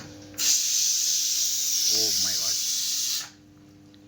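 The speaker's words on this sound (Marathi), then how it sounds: "शिट्टी मारून राहिला कुकर" A steady, loud hiss of steam rushes for about three seconds, as from a pressure cooker whistle. A voice briefly exclaims partway through.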